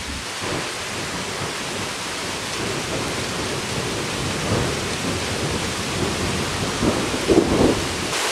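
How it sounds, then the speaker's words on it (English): Steady rain hisses outdoors as a summer storm arrives, with low rumbling thunder rolling beneath it and a brief louder swell near the end; no voices. "You can hear the rain starting."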